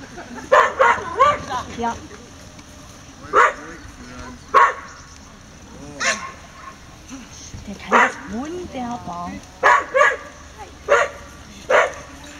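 A dog barks in short, sharp bursts with whimpers and yips between them, close and loud, while a person talks in German over the calls.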